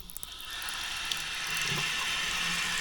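Water pours from the faucet of a Waterdrop under-sink filtration system in a fast, steady stream, a close continuous hiss that grows slightly louder partway through, with no talk.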